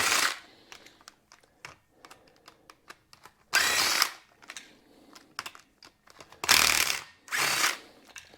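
A pneumatic impact wrench zips out starter clutch bolts from the rotor of a 2000 Yamaha Warrior with a failed starter clutch, three loud broadband bursts between softer clicks and ratcheting taps, close by with no talk.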